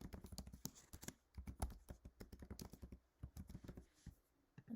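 Rapid keystrokes on a computer keyboard while contact details are entered into a web appointment scheduling form, clicking in quick irregular bursts with brief pauses, close and fairly quiet, no voices.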